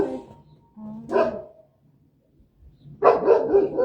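A dog barks in a few loud bursts, a pause of silence between them, the last bark longest and closest.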